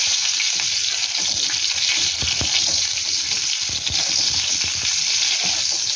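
Cauliflower pieces fry in hot oil, giving a steady, close hiss and sizzle with scattered crackles and pops that continue evenly throughout.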